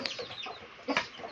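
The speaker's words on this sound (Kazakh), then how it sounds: "Солай, лигорн тауықтарын жарты далада жүр" Leghorn chickens roaming outdoors, a few quiet clucks and short calls at moderate distance, with a slightly louder burst near the end.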